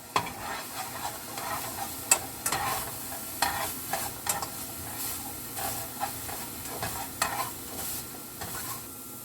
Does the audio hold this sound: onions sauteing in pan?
yes